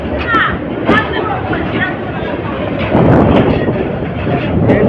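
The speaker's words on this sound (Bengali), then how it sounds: "সাগর এক্সপ্রেস ট্রেনটি ভৈরব বাজার জংশন থেকে ছেড়ে যাচ্ছে" Sagar Express train pulling out of Bhairab Bazar Junction, a loud rumbling rolling roar with intermittent clanks, steady and close, under a voice talking.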